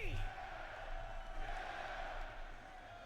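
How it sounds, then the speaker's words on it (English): A crowd at the EVO fighting-game grand finals roars and cheers continuously in a large hall, a loud, dense wash of voices rising and falling without a break. "The crowd is legit. They sound hyped."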